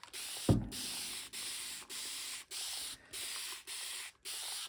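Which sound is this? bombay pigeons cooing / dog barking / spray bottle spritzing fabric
spray bottle spritzing fabric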